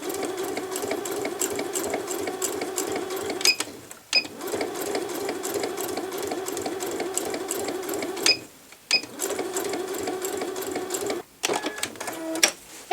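A sewing machine stitches a fabric placemat with a ruffle, running in long steady rapid bursts with a few brief pauses between runs, close and moderately loud with no talking.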